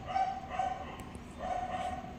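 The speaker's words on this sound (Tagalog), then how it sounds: "Habang nag-iingay naman ang aming kapitbahay na aso." A neighbor's dog barks and yips at a moderate distance, two short bursts of bow-wow calls separated by a pause, over a steady low background hum.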